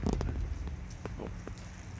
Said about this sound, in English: It is raining and the sun is out in Phoenix, Arizona.